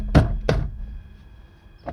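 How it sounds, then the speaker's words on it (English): Two heavy, hollow thuds ring out as a steering wheel is banged loose from its hub on an AE92 sedan during a Nardi wheel and HKB Sports hub install, followed by a fainter knock. "bang it off, and boom, it's already free"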